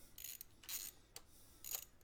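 Bolts on a bicycle brake being tightened with a hand tool, quiet close ratcheting clicks in three or four short bursts, faint and without voices.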